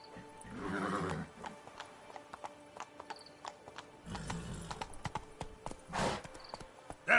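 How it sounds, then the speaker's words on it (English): Roach, the horse in The Witcher 3 on PS4, whinnies and clip-clops, with bursts of snorting and neighing between scattered hoof clops, fairly near and alone. "Whoa there, Roach."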